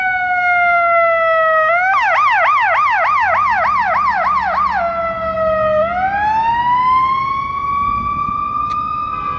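An ambulance siren passes along Clark Street, north of LaSalle, in Chicago at midday in February. It is loud and close, wailing, then switching to a rapid yelp, then back to a rising wail over steady street traffic.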